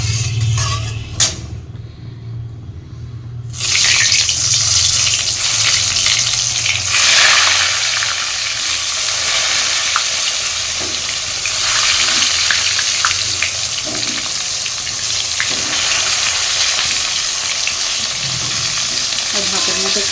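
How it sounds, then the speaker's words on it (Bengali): Eggplant frying in hot oil in a home kitchen: a loud, close, continuous hiss and crackle of sizzling that swells after a brief quieter start and runs steadily without speech. "আর তেল বসিয়ে দিয়েছি, এর মধ্যে বেগুন ভাজা করব"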